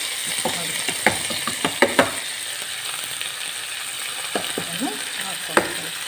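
Curry leaves sizzle steadily in hot oil in a pan, with a spoon scraping and stirring through them in a run of sharp clicks and knocks over the continuous close frying hiss.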